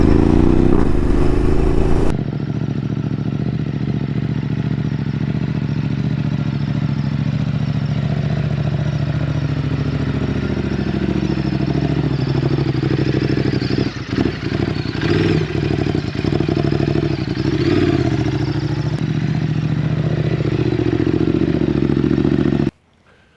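A Ducati Desert X motorcycle engine drones loud and steady while riding, a constant mid-low roar with gear shifts and wind buffeting, cutting off abruptly at the end.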